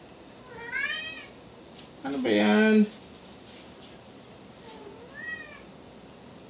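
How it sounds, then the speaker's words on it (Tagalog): A house cat meows repeatedly indoors, a few rising-falling calls spread across several seconds, with a person speaking briefly between them. "ngiyaw ka nang ngiyaw dyan eh"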